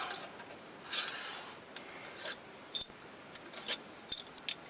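A hand ratchet works on bolts of a Kawasaki Mule engine during a head gasket job, making sparse, close clicking and metallic ticks over a quiet background, with a few sharper knocks.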